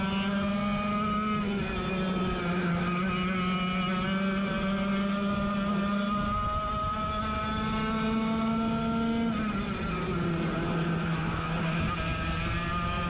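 Several 100cc racing kart engines scream together during a club pre-final race, a loud continuous high-pitched buzzing whine with pitch shifts as they accelerate and brake through corners, close to the track.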